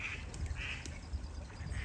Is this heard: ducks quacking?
yes